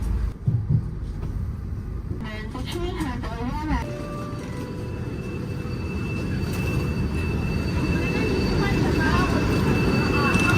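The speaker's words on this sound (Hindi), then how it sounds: "ट्रेन जो है ना नानजिंग साउथ स्टेशन पे पहुंचने वाली है" A high-speed train pulls into Nanjing South station, a broad steady rumble that grows gradually louder, with brief voices and clatter near the start.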